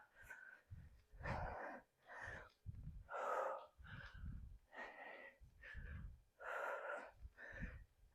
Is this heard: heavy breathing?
yes